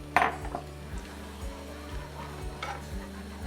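Spoon scraping and clinking in a pan while milk is stirred into sausage gravy, a sharp clank at first then soft rhythmic stirring over a faint steady hum.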